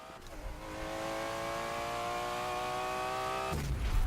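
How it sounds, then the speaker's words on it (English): A 2012 Nissan GT-R in the Forza 7 racing game is launched at full throttle for a quarter-mile drag run, its engine holding a loud, sustained high-rev tone before shifting abruptly near the end. "Since it's a full throttle launch, it depends where the revs are bouncing"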